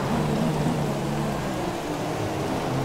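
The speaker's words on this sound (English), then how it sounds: "Had to be Baku to be the heavy rain race." Heavy rain in the F1 2017 racing game at the Baku street circuit, a steady dense hiss of rainfall with an engine drone running beneath it, continuous and fairly loud throughout.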